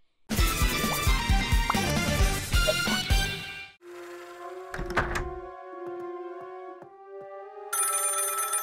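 A cartoon telephone rings in repeated bright electronic bursts after a loud musical passage, with a few thunks and chimes in between, with no voices.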